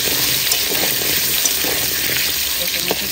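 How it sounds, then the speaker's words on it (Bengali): Taro roots fry in oil over a wood-fired stove, giving a dense, continuous sizzle that stays close and loud throughout, with no voices on top. "কচুরমুখীগুলো ভাজা করে দিচ্ছে, কাঠের উনুনে রান্না হচ্ছে।"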